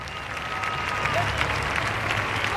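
Crowd applause in the cricket video game Don Bradman Cricket 14 sounds as a steady wash of many hands clapping in a stadium, sustained and slightly swelling, with a commentator's voice over it.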